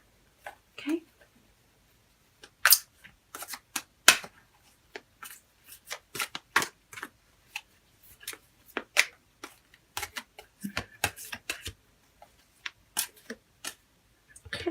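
Tarot cards are shuffled and drawn close up: a dense run of crisp flicks, snaps and riffles at uneven intervals, with soft handling between bursts and no talk over them.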